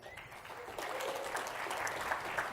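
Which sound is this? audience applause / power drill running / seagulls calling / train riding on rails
audience applause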